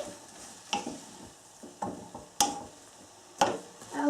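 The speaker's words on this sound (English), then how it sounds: "And finally I will add some cabbage. And then I will stir it around quickly" Cabbage is stirred quickly in a hot pan: a low background sizzle broken by several sharp scrapes and knocks of a utensil against the pan, spaced about a second apart, close by and without speech.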